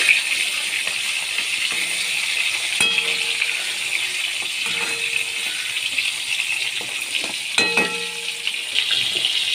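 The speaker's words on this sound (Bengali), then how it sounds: "বাদ বাকি মাছগুলো আমি ভেজে নিচ্ছি।" Fish sizzling steadily in hot oil in a pan, a continuous bright crackle across the whole stretch with brief clinks of a utensil near the middle and end; no one speaks.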